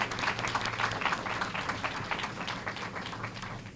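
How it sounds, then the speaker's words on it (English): A press-conference audience gives a round of applause for foundation representatives, a sustained, even patter of many clapping hands, moderately loud and continuous, with a low steady hum beneath. "Let's give them a round of applause."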